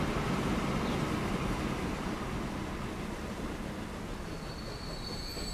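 Grain train rolling along in Transport Fever 2, a steady heavy rumble of wheels on rails with faint squealing, continuous and close throughout, no voices.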